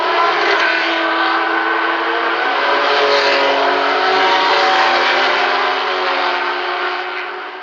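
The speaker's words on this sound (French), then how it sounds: "Le peloton est lancé à petit trot pour ce tour de reconnaissance du circuit." Race cars at the 1973 Le Mans 24 Hours setting off at a gentle pace on the reconnaissance lap, a loud, steady wash of many engines roaring together that eases slightly at the end.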